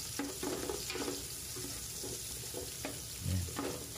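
Onion sautéing in a pan for chicken tinola with bottle gourd, a low steady sizzle under scattered stirring scrapes and a brief thud near the end, heard close with no talking.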